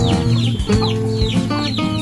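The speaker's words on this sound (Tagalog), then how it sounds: "may isang inahin dito na may sisiw na pitong piraso" A mother hen with seven chicks clucks repeatedly in short, close bursts, with bird chatter mixed in and no talking.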